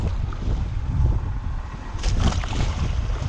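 Ocean waves wash around a fishing boat out squid fishing, a steady low rumble of water and wind buffeting the microphone, with a brief splashier surge near the end.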